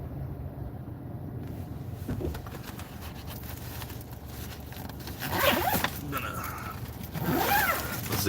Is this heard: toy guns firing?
no